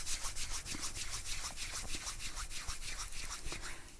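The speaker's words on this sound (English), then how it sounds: "Rubbing your palms together again." Palms rubbing together during a guided Kundalini meditation, a steady, close, rhythmic swishing friction with regular back-and-forth strokes throughout, with no talking over it.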